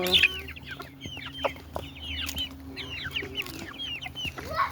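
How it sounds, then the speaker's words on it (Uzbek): A flock of chicks clucks and cheeps continuously in a farm setting, many overlapping high chirps and soft clucks at moderate distance with a low background hum. "Hammasi jo'ja bular,"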